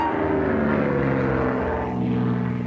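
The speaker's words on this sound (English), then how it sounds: "Percy heard the airplanes zooming overhead all day." A steady, droning propeller aircraft engine hums overhead, loud and continuous with a low rumbling tone.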